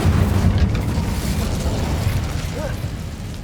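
Incendio fire spell cast in the Hogwarts Legacy video game, giving a loud, continuous booming rumble like a deep fiery blast that fades slightly over a few seconds.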